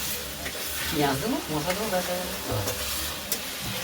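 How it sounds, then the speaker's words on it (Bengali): Garlic paste frying in hot oil in a pan for a meat dish gives a steady, close sizzle with stirring scrapes, and a faint voice is heard partway through. "রসুনটা ভেজে তারপরে দিতে হবে"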